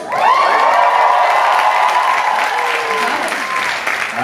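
A loud, close crowd applauding and cheering continuously, with whoops and shouts over dense clapping, at a ping pong finals event on the Parahoy cruise with Paramore.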